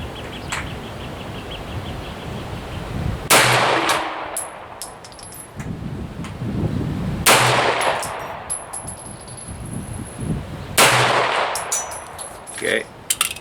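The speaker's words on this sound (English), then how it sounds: "My dad is shooting his 44 Magnum next to me, so that's what you're hearing" Loud .44 Magnum revolver shots at an outdoor shooting range, three sharp, powerful blasts spaced a few seconds apart, each with a ringing, echoing tail over background range noise.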